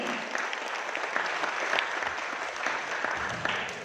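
A seminar audience claps steadily and evenly for the whole stretch, a dense, full room of applause with no talk standing out.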